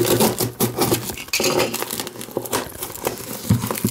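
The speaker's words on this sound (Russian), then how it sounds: "Открываем посылочку нашу" Plastic wrapping crinkles and rustles continuously as a parcel of retro phones is unpacked, close and fairly loud, with scattered small knocks and handling sounds throughout.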